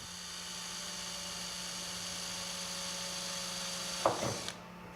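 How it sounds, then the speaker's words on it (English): A power drill bores a small pilot hole into a vehicle body panel, a steady whining hum running throughout, then a short rougher grinding burst near the end before it stops. "Drill a small pilot hole to verify the position."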